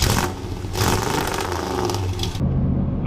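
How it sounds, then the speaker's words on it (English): Supercharged Shelby F-150 truck engine revving loud and close, a sustained roaring whine that builds then cuts off abruptly near the end. "I think I just gotta go hear that supercharger one more time"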